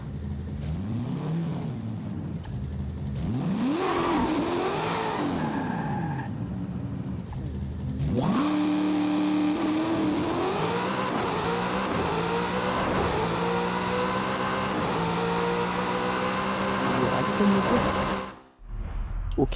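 A car engine in the racing game Forza Horizon 5 revs hard and climbs through the gears, loud and close, each rising pitch sweep breaking into the next shift, before the sound drops away near the end.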